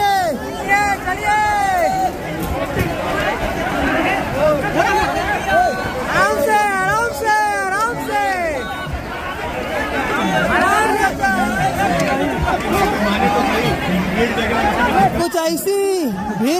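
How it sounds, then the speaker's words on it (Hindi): Passengers rushing along a railway platform to board the general coach of the Sampoorn Kranti Express, a dense, loud babble of many shouting voices pressing close, continuous throughout. "नीचे प्लेटफॉर्म में पूरा भागदड़ मच रहा है गाड़ी में चढ़ने के लिए, जनरल कोच में चढ़ने के लिए"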